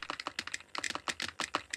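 Rapid typing on a computer keyboard, a dense run of crisp, close key clicks with a few tiny gaps, heard alone.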